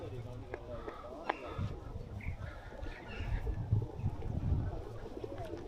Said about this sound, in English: As you can see, it's full of pigeons